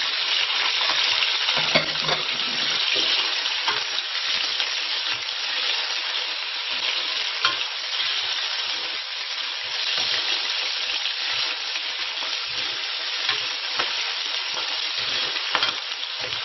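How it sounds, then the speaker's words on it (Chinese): Beef offal stir-fried with spices, celery and scallion in a hot pan, a steady loud sizzle and crackle with scraping stir strokes throughout, no talk. "我们一般要把这里不停的翻炒，炒到这个香料颜色泛黄就可以"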